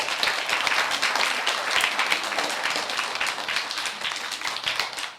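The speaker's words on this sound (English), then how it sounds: "can you give them a very big clap, please?" Sustained applause from an audience for performers at a Tuesday performance of We'll Meet Again, dense continuous clapping with no talk, steady and fairly loud throughout.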